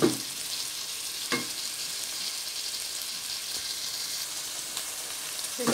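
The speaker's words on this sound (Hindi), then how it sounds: "अब इसे भी 3-4 मिनट के लिए भूनती हूँ" Ginger garlic paste for aloo gobi sautés in a pan, giving a soft, continuous sizzle, with a few stirring scrapes at the start and end.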